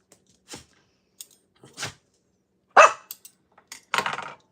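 A dog barks in a handful of separate sharp bursts, some louder and closer than others, with quiet gaps between them indoors.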